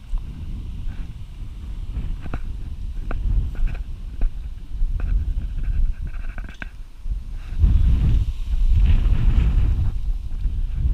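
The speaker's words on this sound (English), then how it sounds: "It's starting to get windy too." Gusty wind buffets the microphone with a low, rumbling roar that rises and falls, growing stronger near the end, with no voices.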